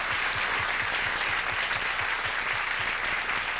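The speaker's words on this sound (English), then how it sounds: "equal applause" Studio audience on a 1991 TV talk show applauding steadily, a dense wash of clapping that holds evenly throughout at moderate loudness with no voices over it.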